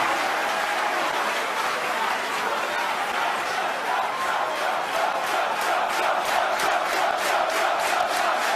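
SpaceX employees cheering and applauding during a booster landing, a dense steady crowd roar with clapping that grows brighter and more rhythmic toward the end, with some voices mixed in.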